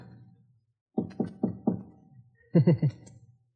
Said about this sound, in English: And knock on the concierge's door.